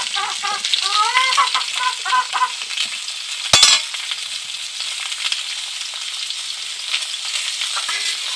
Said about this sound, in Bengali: এগুলোকে আমি একটু ভালো করে ভেজে নেব